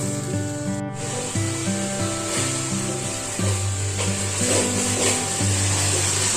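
Ground spice paste frying in a pan for Bengali hilsa fish soup, a steady close sizzle and hiss running throughout beneath a sustained tonal hum, with no talking.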